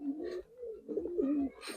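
Large giribaz and coloring pigeons cooing nearby in a few soft, throaty rolling phrases, alone without speech.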